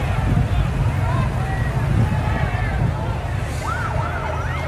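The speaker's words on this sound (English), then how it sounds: "Then you hear the sirens." Wailing sirens rise and fall in the background over a noisy crowd and street rumble during a Venezuela blackout, with several siren tones overlapping as people run down the street.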